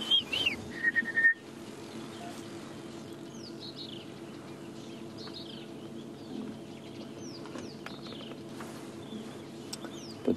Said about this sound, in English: There's a rattling cisticola calling.